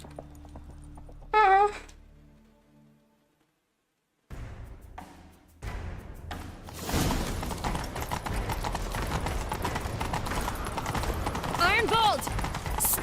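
Horse hooves clip-clopping at a gallop in The Witcher 3: Wild Hunt, a steady, dense rhythmic pounding that builds and holds loud through the second half, with game voices and a brief whinny-like sound earlier.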